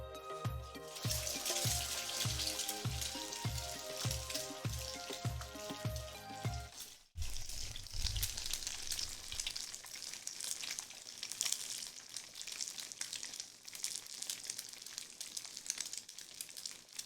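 Slices of canned luncheon meat fry in a pan hot enough to smoke, a steady crackling sizzle throughout, with a low rhythmic thumping early on that gives way to a constant hiss, and no talk.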